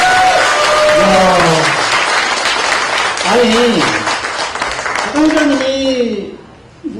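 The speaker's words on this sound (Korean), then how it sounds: "다시 한번, 진짜 다시 한번 큰 박수 한번 부탁드립니다" Sustained applause from the audience at a humanities book concert with an art troupe performance, loud and continuous, while someone speaks briefly over it.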